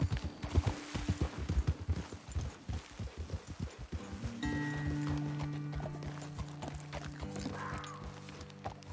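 Horses galloping in Red Dead Redemption 2, rapid heavy hoofbeats close by that thud in a quick rhythm, then slow and give way to a steady tonal hum with a brief whinny near the end.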